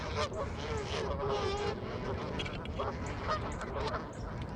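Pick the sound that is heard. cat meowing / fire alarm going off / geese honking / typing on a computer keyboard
geese honking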